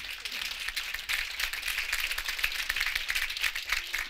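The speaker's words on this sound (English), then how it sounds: "I want us to give them a round of applause before we even start" Audience applause at a tech conference session on women-led single-subject news sites, dense and steady throughout, a broad wash of many hands clapping at moderate distance.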